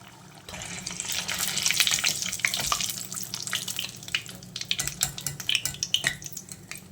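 Jowar chakli frying in hot oil in a home kitchen, a steady soft sizzle and crackle of bubbles with occasional sharper pops and utensil clinks, fairly quiet and close.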